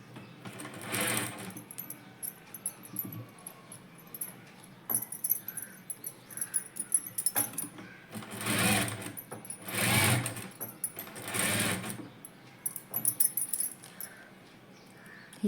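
An electric sewing machine stitches a net fabric puff sleeve in short, close bursts of rapid whirring, several separate runs with quiet gaps and small clicks between them.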